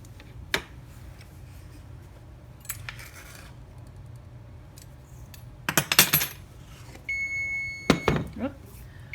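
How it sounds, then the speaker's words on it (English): A kitchen timer goes off while cookies are baking, giving a few high electronic beeps near the end, preceded by scattered clinks and clatter of utensils and bowls in a quiet kitchen. "And there is my timer."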